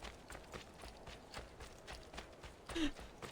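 Horse hooves clip-clop in a steady trotting rhythm in Assassin's Creed 2, an even run of moderately loud footfalls that swells briefly near the end.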